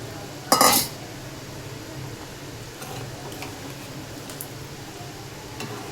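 Fish pieces for a shol fish curry are dropped into a hot cooking pan with a brief loud splash and clatter near the start, then a soft steady sizzle continues close by with faint utensil clinks.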